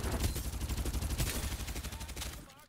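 Rapid automatic gunfire in a video game firefight, a steady stream of close, fairly loud bursts that cut off abruptly near the end, with faint game ambience underneath.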